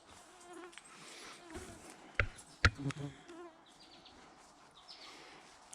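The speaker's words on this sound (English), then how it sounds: "I hear the deer flies kamikaze-ing." Deer flies buzzing faintly around outdoors, with a couple of sharp knocks partway through.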